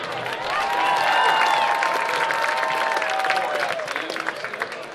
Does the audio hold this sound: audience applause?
yes